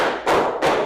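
Two sharp hand claps land about a third of a second apart, close and loud, during a counting clap exercise in a classroom, with a steady noisy background between them.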